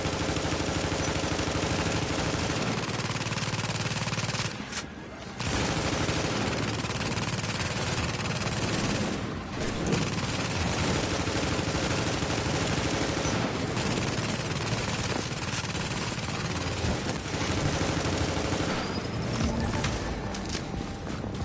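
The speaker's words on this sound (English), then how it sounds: "Now watch my turret do a lot of work here." Automatic turret deployed during a PvE survival match in The Division, firing sustained bursts of rapid gunfire that run almost continuously, loud and dense, with brief lulls between volleys.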